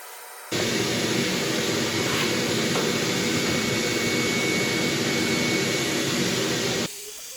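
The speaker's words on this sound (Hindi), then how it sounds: "अब जो वैक्यूम का काम है वो कर दें।" Household vacuum cleaner running for a cleaning job, switching on abruptly into a loud, steady roaring whine that holds unchanged for about six seconds before cutting off.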